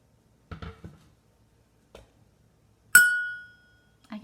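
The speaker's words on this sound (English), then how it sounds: "we made this sound with just a fork and just a glass" A fork strikes a glass once, producing a bright, ringing ping that lingers and fades over about half a second, preceded by a few faint clinks and handling taps in a quiet room.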